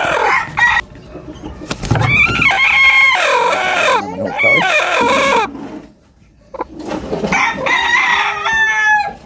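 A rooster crows loudly nearby, several long strained calls with clucking between them, close to the microphone.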